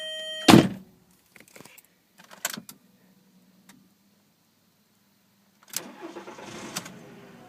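A thunk and keys jangle, then after a quiet pause a 1999 Volkswagen Beetle GLS engine cranks and catches, settling into a low running rumble, close by.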